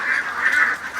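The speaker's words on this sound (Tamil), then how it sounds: "பெண் வாத்து பிடிச்சிருக்காங்க" A female duck caught by hand in a village setting lets out a steady, nasal, honking quack that swells and fades over about a second, close and fairly loud, with no voices.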